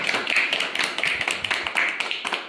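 An audience applauding after a pottery demonstration, a moderately close, steady patter of many hands clapping with no voices.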